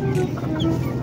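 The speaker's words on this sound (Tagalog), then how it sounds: "Andito din yung ating inahin." A mother hen clucks in short, low, close-up calls beside newly hatched chicks, with faint higher peeps mixed in.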